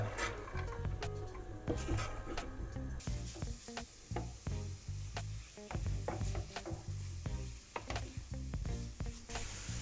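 Carrots frying in vegetable oil in a pan, sizzling steadily up close with irregular crackles and stirring clicks throughout.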